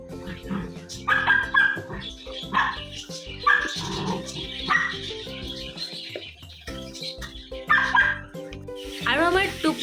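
A pet dog barks repeatedly in a home kitchen, sharp close barks in irregular bursts, with talking and some clucking-like sounds around them.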